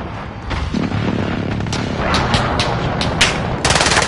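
Gunfire in Call of Duty Warzone, with dense rapid bursts and sharp shot cracks layered over loud sustained game noise, close and continuous with a harder burst near the end.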